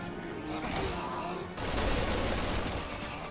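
Rapid gunfire and booming shots from a sniper battle in the video game Resident Evil 6 fill the scene steadily, with a louder burst midway and faint voices in the background.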